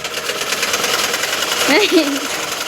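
A sewing machine stitches fabric with a steady, close, buzzing mechanical drone, and a voice briefly sounds partway through.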